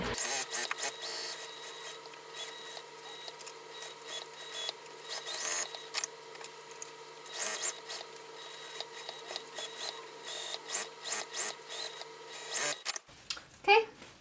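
Sewing machine stitching around the gusset of a satchel-style bag with a backstitch at the opening, a steady rapid mechanical whir running continuously before stopping near the end, followed by a brief rustle.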